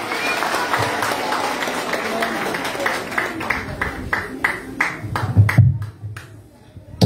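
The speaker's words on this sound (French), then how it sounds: "Applaudis tête nous." Audience applause at a ceremony of the Grann Ste Anne Charitable society, a dense, sustained clapping that fills the room, thinning into scattered claps near the end, with low voices murmuring underneath.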